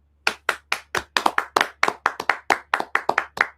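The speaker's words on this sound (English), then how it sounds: "Can we get a round of applause for us being 8 minutes early?" A small group claps for a few seconds on a live talk show, with sharp, irregular, close hand claps and no voices over them.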